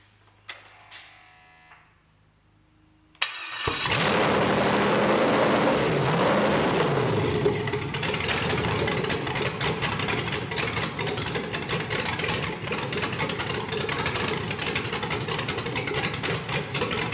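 A 5.3L LS truck engine run on MegaSquirt 2 cranks over after a quiet pause, catches loudly and settles into a steady, close, rumbling idle with no talk over it.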